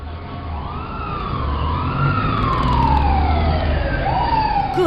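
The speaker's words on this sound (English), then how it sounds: "They're going to send an ambulance and a police car right away." An emergency siren from an arriving ambulance and police car wails in loud, continuous rising and falling sweeps, growing slightly louder as it approaches, with no talking.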